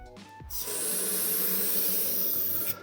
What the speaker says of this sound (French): Pour l'instant, c'est liquide, c'est un spray, et après, ça va durcir.